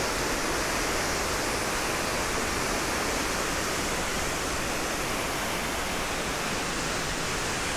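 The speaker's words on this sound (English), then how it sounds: "We walk now behind the waterfall. It's crazy loud." A loud, constant roar of falling water from behind a waterfall on a hike near Mürren and Lauterbrunnen, broad and unbroken from start to finish, very close and overwhelming with no voices audible.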